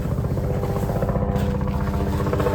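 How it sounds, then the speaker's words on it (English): A helicopter's rapid rotor chop pulses steadily and loudly throughout, with no voices. "Oh, I hear a helicopter. You hear that helicopter?"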